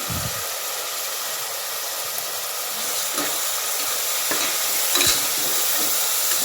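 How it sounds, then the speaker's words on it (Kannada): Fenugreek leaves sautéing with garlic and turmeric in a pan, giving a steady close sizzle and hiss, with a few sharper stirring scrapes and taps partway through and no talking. "ಮೆಂತ್ಯ ಸೊಪ್ಪು ಹಾಕ್ಕೊಂಡು ನೀಟಾಗಿ ಬಾಡಿಸ್ಕೊಳ್ಳಿ."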